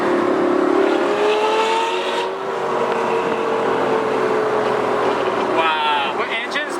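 A straight-piped Lamborghini Gallardo Superleggera engine drones loud and close from inside the car while driving, holding a steady pitch before rising in a rev near the end.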